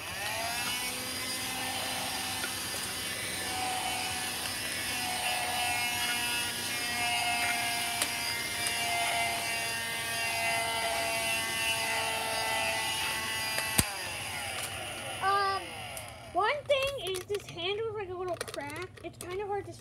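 A small vacuum cleaner's motor drones with a steady high whine for about fifteen seconds, then cuts off, and a person starts talking nearby.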